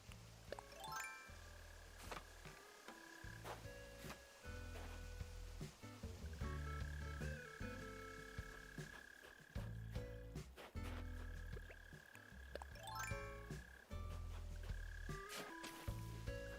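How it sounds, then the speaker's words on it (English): A mole cricket in the video game Animal Crossing: New Horizons gives a low, steady buzzing croak that keeps pulsing through the game's background music, along with chiming and jingling sound effects, with no talking. "Oh, mole cricket. I know what that is now."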